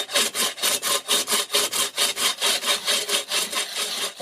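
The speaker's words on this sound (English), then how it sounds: "I've got a saw, so I just go ahead and just saw on the line" A hand saw cuts soapstone along a marked line, Viking Age style, in a steady series of about fifteen quick rasping back-and-forth strokes, close and fairly loud with no talking.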